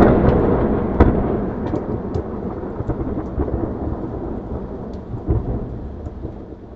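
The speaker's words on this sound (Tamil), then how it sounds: "ஆல்ரெடி வேறு லெவலில் இங்கே எல்லா இடத்துலையும் மழை பெஞ்சிட்ருக்கு" Heavy, steady rain pours down as a cyclone nears landfall near Chengalpattu, a dense continuous roar with bursts of thunder rumbling through it and no voices.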